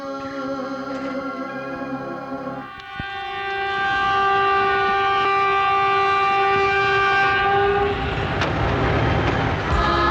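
A train pulls into a station in a film scene, with a loud, sustained horn over the rumble and rattle of rail cars that swells after a brief dip and stays strong to the end.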